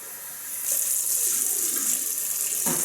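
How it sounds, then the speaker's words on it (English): A bathroom tap runs water for rinsing between shaving passes, starting with a gush after a brief moment and continuing as a steady, close hiss into the sink. "So I'm just going to rinse between passes because you need"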